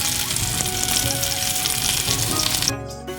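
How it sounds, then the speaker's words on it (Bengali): Spiny gourd pieces fry in a pan and are turned over, giving a loud, dense sizzle with crackling pops that cuts off abruptly near the end. "এরকম করে উল্টে পাল্টে খুব সুন্দর করে ভেজে নেব"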